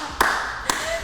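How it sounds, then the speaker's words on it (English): Two sharp hand claps about half a second apart, crisp and close, over a steady low background hum. "Clapping."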